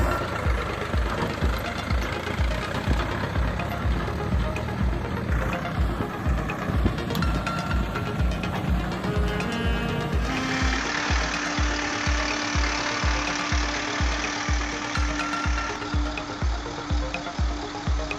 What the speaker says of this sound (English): DT-75 tractor with a 95 horsepower engine roared forward.